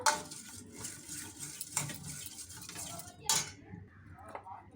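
A spoon scrapes and clinks against a bowl while thick batter of yogurt and black gram flour is stirred, with a few sharper knocks and quiet handling sounds between.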